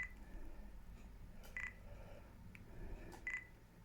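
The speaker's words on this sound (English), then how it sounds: "I press the button and it beeps." Nikon D-series camera confirming autofocus with short high electronic beeps, two faint chirps about two seconds apart over quiet room noise.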